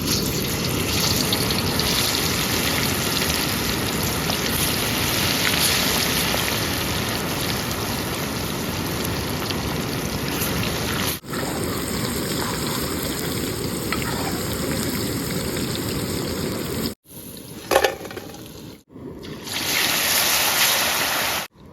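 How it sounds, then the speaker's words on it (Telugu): Chicken pieces drop into hot oil in a home kitchen for a chicken fry, giving a loud, continuous crackling sizzle that cuts out briefly a few times before resuming. "ఒక్కొక్క పీస్ తీసుకొని నూనె వేసుకుందాం"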